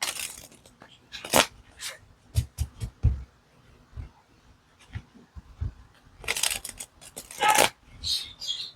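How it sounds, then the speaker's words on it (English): A mini tarot deck is shuffled in short bursts of crisp riffling and soft tapping, with brief pauses between, close and fairly quiet. "So let's try how this deck shuffles."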